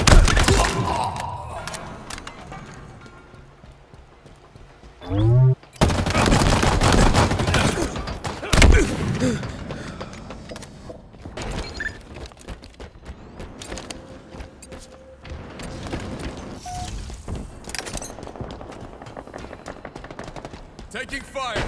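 Heavy gunfire in Halo Infinite multiplayer, with bursts of automatic fire and single shots over about twenty seconds, including loud close blasts around the middle, and faint voices now and then.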